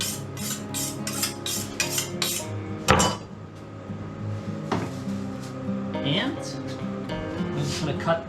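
Knife chopping peppers on a board, a quick steady run of sharp taps followed by a few scattered cuts, close and clear, with speech over the chopping.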